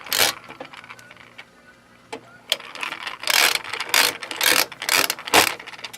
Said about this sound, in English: get the screwdriver in there and start taking the screws out